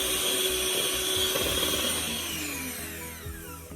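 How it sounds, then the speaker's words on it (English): An electric cake mixer whirs loudly through coconut cake batter, a close, steady motor whine that gradually drops in pitch and fades as it winds down near the end, with no talking. "So you're mixing it with your cake mixer."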